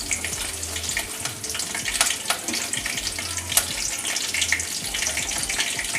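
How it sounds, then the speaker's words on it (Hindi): Mustard seeds dropped into hot oil crackle and sizzle in a steady, dense, close hiss with scattered sharp pops, heard alone for the whole stretch while a South Indian idli tempering is made. "तो अब तेल गरम हो गया गाइस, तो मैं इसमें पहले राई डाल रही हूँ।"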